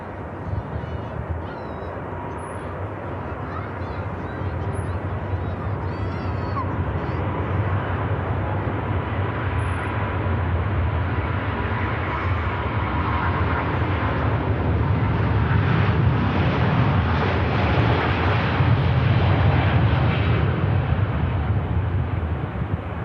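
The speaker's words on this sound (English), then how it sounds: "We got Virgin Atlantic. A350, Las Vegas bound." A Virgin Atlantic Airbus A350 jet airliner at Manchester Airport gives a continuous engine rumble that swells louder toward the end, with wind buffeting the microphone and brief high tones over the top.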